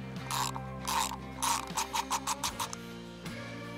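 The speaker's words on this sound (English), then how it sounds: "We're going to take this nut off." A wrench works a plastic lock nut off a sprinkler fitting during sprinkler winterization, giving a series of close ratcheting clicks, first in slower bursts and then a quick run of short clicks, over a low steady hum.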